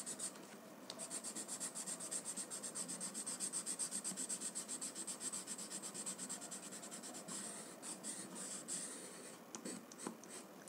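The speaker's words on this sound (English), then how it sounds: "let us now pick up our chalk and highlight the white section of our Raddox a little more" White chalk rubbed across drawing paper to brighten a white area of a tangle pattern drawing, a quiet, continuous scratchy rubbing in quick back-and-forth strokes, close and faint, with no talking.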